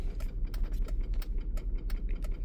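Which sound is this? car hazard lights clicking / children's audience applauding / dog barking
car hazard lights clicking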